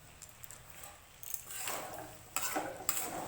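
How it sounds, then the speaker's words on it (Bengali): Onions frying with chicken in a pan for a Nepali-style chicken and rai sag dish, with soft sizzling and intermittent scraping stirs that grow louder midway; fairly quiet overall, no talking. "আমি এখানে ভালো করে মাংসতে পেঁয়াজগুলো দিয়ে এখন ভেজে নেব নেড়ে"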